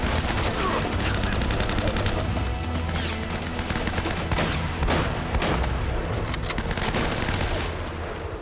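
Sustained gunfire from the video game Uncharted: Drake's Fortune, dense overlapping shots and bursts rattling continuously with booming impacts throughout, loud and busy, with some voice mixed under the firefight.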